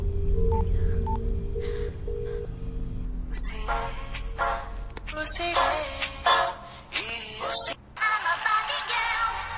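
A few short electronic dialing beeps sound early on, followed by louder bursts of clattering noise and brief tonal blips.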